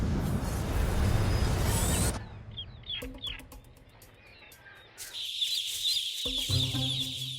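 Chickens clucking in a poultry house on a farm, with scattered calls and fowl chatter, at first under a loud mechanical rumble, then in a quieter stretch with a steady high whirring machine hum.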